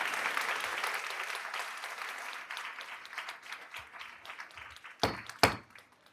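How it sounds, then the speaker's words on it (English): Applause at a school board meeting, honoring an elementary school: a dense wash of clapping that thins out over several seconds, ending in a few louder isolated claps close by. "So one last big round of applause for Shadowlawn Elementary School."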